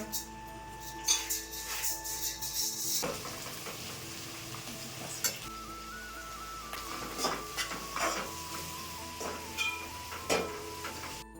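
Marinated chicken frying in a pan, with a soft sizzle and occasional scraping stirs, fairly quiet beneath a faint steady background tone.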